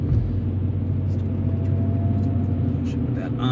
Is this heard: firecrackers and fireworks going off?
no